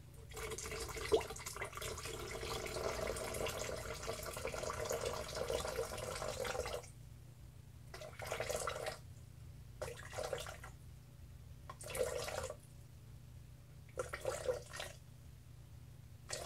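Aloe vera juice poured in a steady, close stream into a water and lye mixture for charcoal, tea tree and aloe vera soap, running continuously for several seconds before breaking into shorter splashing bursts.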